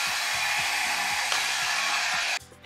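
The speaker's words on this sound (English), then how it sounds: "Let me get out my handy dandy baby Amika blow dryer and let's dry it." A small Amika blow dryer runs loud and steady at close range, drying freshly washed hair, then cuts off abruptly near the end, leaving only faint handling noises.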